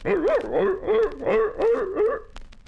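A voice imitates barking sea lions with about five rhythmic, pitched barks in a row, loud and close, then trails off.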